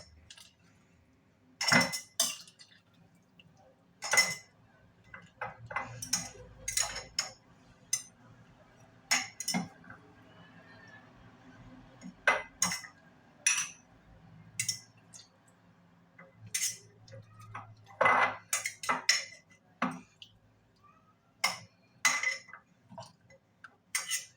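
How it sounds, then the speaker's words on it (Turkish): Glass jars being filled with pickled fish peppers and handled, producing scattered clinks and knocks of glass and lids at irregular intervals, fairly close and crisp against a quiet background. "Diğer kavanozumu da dolduruyorum."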